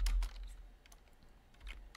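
A computer keyboard being typed on while a Linux terminal command is entered; a burst of several quick keystrokes at the start, then sparse, faint clicks, ending with another short run of taps.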